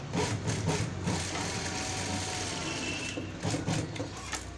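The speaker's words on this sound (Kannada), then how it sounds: "ಈಗ ಸ್ಟಿಚ್ ಹಾಕ್ಕೊಳ್ಳಿ" A sewing machine stitches piping onto a blouse, its motor running with a steady, fairly soft mechanical whir and rapid needle chatter, pausing and surging slightly near the end.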